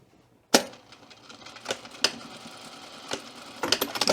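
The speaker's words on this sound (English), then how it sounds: "And we're going to sew across the top" A sewing machine stitches across the top of a skirt, closing a seam in short, close bursts of mechanical rattling separated by brief pauses, with no voices.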